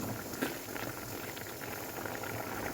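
Cassava tapioca chunks boil vigorously in a pot of water with turmeric, giving a dense, continuous bubbling and gurgling close by, with no voices.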